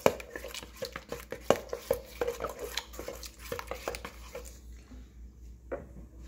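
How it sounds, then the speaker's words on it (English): Homemade chocolate pudding with cocoa being mixed in a bowl, a spoon or whisk clicking and scraping in irregular taps that thin out and fade toward the end, fairly quiet and close. "Mix this together."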